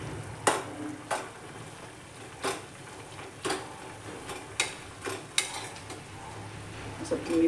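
Masoor dal being stirred and sautéed in a pan, with a spatula scraping and tapping the metal in irregular, fairly close knocks roughly once a second over a faint low sizzle.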